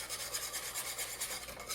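Continuous brisk whisking of custard in a saucepan, a soft, even scraping rasp with a quick regular rhythm, close and fairly quiet, with no voices.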